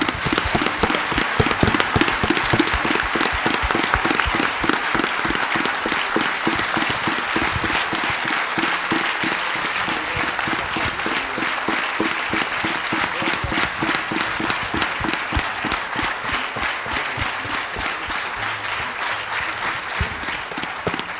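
A standing audience at a science and spirituality event in Nagpur gives a long, loud ovation, with many hands clapping in a sustained, evenly rhythmic wash from start to finish.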